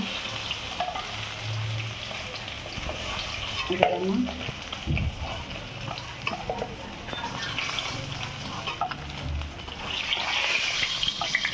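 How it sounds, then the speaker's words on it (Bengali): Fish pieces fry in bubbling oil with a continuous close crackling sizzle and occasional stirring scrapes, while a person talks intermittently over it. "তেল আছে মাছটার মধ্যে, ফুটতে দেখেন কীরকম, বহুত ফুটতেছে"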